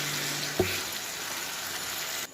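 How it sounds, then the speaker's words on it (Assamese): Meat frying in a pan in a home kitchen: a steady, close hiss of sizzling with a single clack of the utensil early on, then cutting off abruptly. "মাংসখন অকণমান ভজা হোৱালৈকে"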